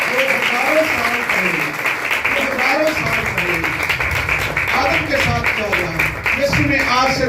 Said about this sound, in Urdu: زوردار تالیاں بجائیں گے.